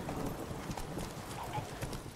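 Roach, the horse in The Witcher 3: The Wild Hunt, gallops with steady clip-clop hoofbeats at a brisk, even rhythm over a low game ambience, fairly quiet throughout.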